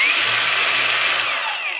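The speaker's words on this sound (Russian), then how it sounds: "Работает, в принципе, ну, стандартно для бесщеточной болгарки." A budget cordless brushless angle grinder spins steadily with a loud, high whine, running continuously at full speed with no voices over it.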